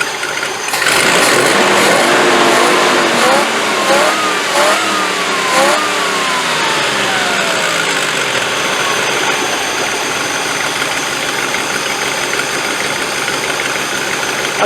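Ex-NATO 1985 Land Rover 110 V8 engine revving loud and close: the engine climbs through several quick blips, then settles back to a rough, steady idle, with no one speaking.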